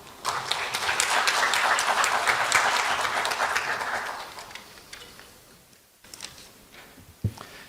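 An audience at a Seoul National University education forum breaks into loud, dense applause that holds for about four seconds, then thins to scattered claps and fades out.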